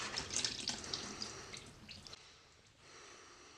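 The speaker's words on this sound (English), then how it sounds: "I'm just going to let that drain out." Fluid drains from a hose during engine removal on a VW Golf GTI MK2 8V, a faint trickling and splashing of liquid that fades to a softer drip near the end.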